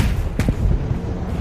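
Rocket explosions strike the front of a tank convoy in the WWII Ardennes as American aircraft attack, a sharp heavy blast bursting out of a constant low rumble, then a few smaller thuds trailing off.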